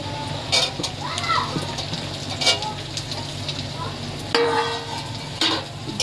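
Carrots and beans stir-fried in a pan for egg and vegetable chow mein, with a steady soft sizzle, a few scraping stirs and clatters of the spatula, and a voice talking over the cooking.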